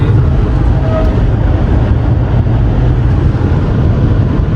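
A loud, constant engine roar with heavy road rumble from a Toyota Levin driven at full throttle at about 140 km/h, heard inside the cabin, unbroken throughout.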